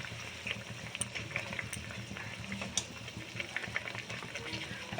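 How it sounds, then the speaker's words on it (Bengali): Tilapia fish curry gravy bubbles in a pan, a soft continuous simmer with small irregular pops and gurgles, quiet and close with no voices. "তো ঝোলটা ফুটে উঠেছে"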